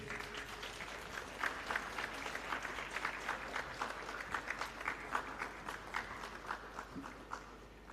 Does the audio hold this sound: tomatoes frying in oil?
no